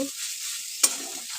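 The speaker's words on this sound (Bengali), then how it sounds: "হয়ে এসছে আমার শাক ভাজা, এখন আমি নামিয়ে নেব।" A soft, steady sizzle of spinach frying in a pan, with a single brief scrape or clink partway through.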